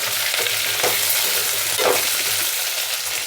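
Pumpkin pulusu with gram flour being stirred in a pan, a steady low sizzle with soft scraping strokes of the spoon, close and continuous, with no one talking.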